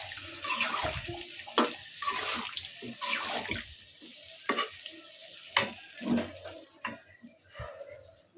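Food being stirred and sautéed in a pan, a spoon scraping and clattering at irregular intervals over a soft steady sizzle, close by.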